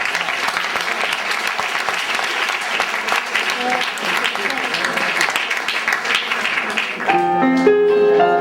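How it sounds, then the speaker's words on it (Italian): A theatre audience applauds at a live show in Ostia, Italy, a loud, dense and continuous clapping that fills the room and gives way to music near the end. "Ancora un grande applauso a lui."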